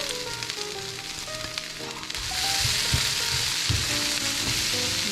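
Mushrooms and chicken sausage sizzle in a stir fry, a loud, continuous hiss that swells partway through as the mushrooms hit the pan, with light stirring clatter underneath.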